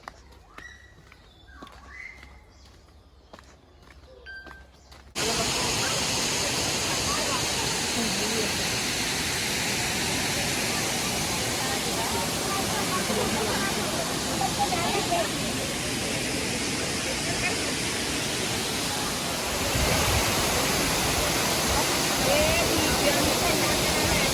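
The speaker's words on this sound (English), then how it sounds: "let's go and explore this waterfall" Abbey Falls, a waterfall in Coorg, roars as a loud, steady rush of falling water that fills the scene after a few seconds of quieter outdoor sound with people talking at the start.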